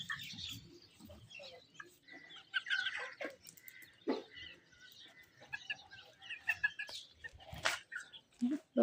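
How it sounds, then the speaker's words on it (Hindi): Chicks scuffling as two of them peck at a third, with busy clucking and chirping from fowl, close and lively, punctuated by sharp bursts of activity and occasional human voices in the background. "ये कौन सा चूजा किसको मारा है?"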